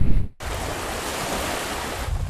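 Surf rolling onto the shore at Conimicut Point Beach on Narragansett Bay near a sandbar, a loud steady wash of waves with heavy wind buffeting the microphone after a brief drop-out at the start.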